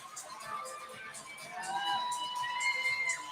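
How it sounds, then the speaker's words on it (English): A hockey arena crowd at a Utah Grizzlies home game against the Kansas City Mavericks on a Friday night cheers and whistles, with high shouts rising over a steady roar. "Grizzlies are at center ice celebrating as they salute this great crowd here on a Friday"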